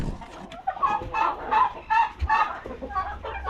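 Native darag chicken clucking close by in a run of short repeated calls, with a few faint sounds in the background.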